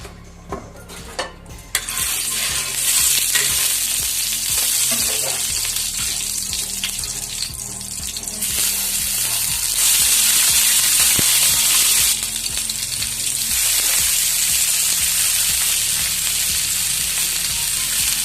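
Whole okra (bhindi) fries for a masala fry in hot mustard oil, a loud, steady sizzle and crackle that runs unbroken with occasional stirring clatter and no voices.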